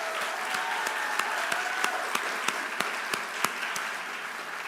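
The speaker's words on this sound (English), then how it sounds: "please give them applause" Audience applause at a charity dinner, a steady wash of many hands clapping with a few sharper individual claps standing out, sustained evenly throughout.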